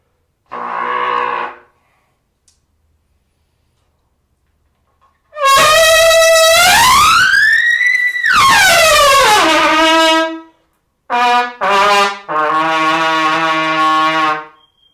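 A loud saxophone blares a series of long, wavering notes with brief pauses between them, one bending upward and back down.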